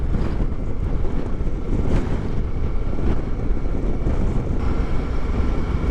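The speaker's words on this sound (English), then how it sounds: "Oh, it's windy again." Steady wind buffeting the microphone on the CV-715 road in the Costa Blanca, Spain, a constant loud low roar with gusty fluctuations throughout, no voices.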